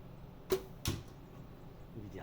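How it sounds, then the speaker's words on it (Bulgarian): Two arrows strike an arrow-catching curtain, each landing as a sharp, close thud about a third of a second apart, followed by quiet room tone. "2 стрели, 2 удара и виждате, че стрелата пада на земята, без да пробива пердето."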